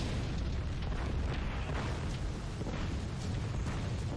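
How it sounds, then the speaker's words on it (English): A massive explosion in the animated film Finding Nemo comes through as a sustained, dense rumbling roar with crackling bursts, fairly quiet and unbroken throughout. "only to set off a massive explosion"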